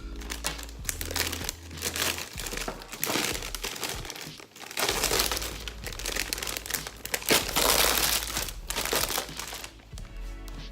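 Packaging around a Z9 Mini mining unit is unwrapped, with continuous close crinkling and crumpling of plastic and paper for about ten seconds and no voices.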